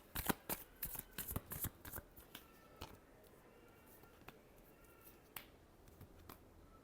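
A deck of tarot cards is shuffled by hand in a burst of quick, crisp riffles and slaps, close and quiet. Only a few scattered taps follow, with no talking.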